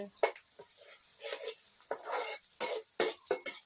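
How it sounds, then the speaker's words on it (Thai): A paste of garlic, coriander root, pepper and shallot stir-fried in a pan, repeated close scraping strokes of a utensil over a sizzling bed, in an uneven rhythm with no talk. "ผัดสี่เกลือให้หอมหอมก่อน"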